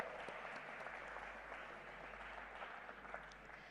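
A large audience gives faint, distant applause for a speaker at a 2024 life-sciences expo, a steady diffuse wash of clapping over a low hum of hall noise, with no talk above it.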